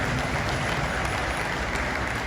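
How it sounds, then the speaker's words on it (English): Spectators at a horse pulling contest give continuous broadband applause, a dense even roar of many hands from the crowd in an open arena, steady and unbroken across the whole moment. "give them a big round of applause"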